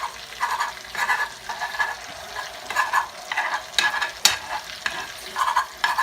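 Scrambled egg fries in a pan while being stirred: repeated scraping strokes over a continuous sizzle, close and fairly loud.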